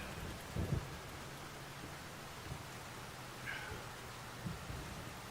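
Steady rain falls in Farming Simulator 25, a soft continuous hiss with a few faint low thuds and rumbles scattered underneath.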